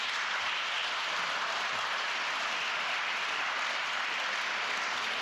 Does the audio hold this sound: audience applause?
yes